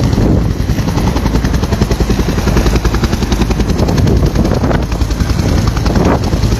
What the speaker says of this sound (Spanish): Ahora sí, ya ha despegado completamente.